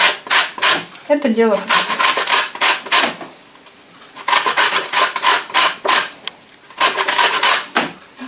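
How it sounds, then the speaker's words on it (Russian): A lemon is rubbed on a fine grater in repeated quick rasping strokes, coming in close bursts with short pauses between them, while a voice speaks briefly over the scraping. "Мы его натираем на мелкой терке."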